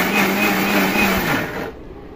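An electric blender grinds ginger and garlic into paste with a steady whirring drone that winds down and cuts off near the end, leaving a quieter tail.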